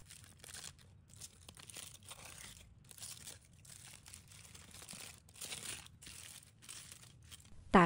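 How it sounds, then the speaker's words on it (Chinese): Layers of aluminium foil are peeled back from a steamed pumpkin stuffed with mixed grains, giving soft, close crinkling and tearing in a run of short bursts with brief pauses. "小心取出裹着铝箔纸的南瓜，轻轻拨开层层锡纸"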